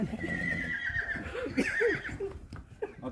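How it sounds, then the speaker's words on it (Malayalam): A tame horse in a desert setting gives a loud, close whinny that rises and wavers, with a few hoof clops and low background noise around it. "വളരെ സിമ്പിളായിട്ട് ഇണങ്ങുന്ന കുതിരയാണ്"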